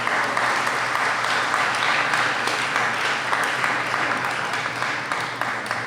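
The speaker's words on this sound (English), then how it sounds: "So please welcome Police Department Officer Patricia Magallanes." Sustained audience applause at a National Parents Day awards ceremony, a dense steady wash of many hands clapping that carries evenly through the whole stretch and fades slightly at the end, with no talk over it.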